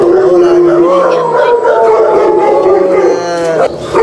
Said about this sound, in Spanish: miren cómo ladran, que son muchos